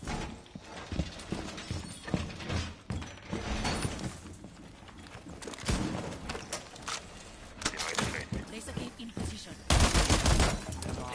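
Shotgun and other gunfire in a tactical shooter video game, with dense, loud bursts of shots and clattering mechanical effects running almost continuously throughout.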